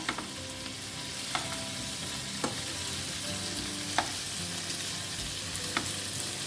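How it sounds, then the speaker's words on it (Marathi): Prawns frying in a pan for Goan prawn balchao over a medium flame give a steady, close sizzle, punctuated by a few sharp clicks of a utensil turning them. "दोनी सायड बरें फ्राय करून घेवया"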